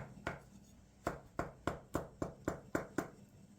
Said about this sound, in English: I generally just chop all my eggs and put them right in there.